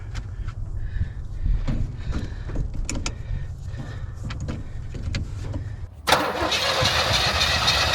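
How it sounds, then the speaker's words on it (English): An old abandoned Chevrolet Nova with a failed heater core cranks in a steady low churn for about six seconds, then catches and roars into a loud, rough running engine close by. "Let's see how she turns over."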